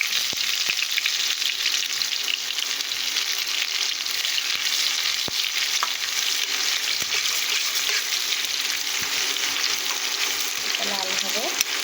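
Onion frying in hot oil with cumin seeds and whole dried chillies, a loud steady crackling sizzle that runs the whole time with occasional stirring clicks and no talking.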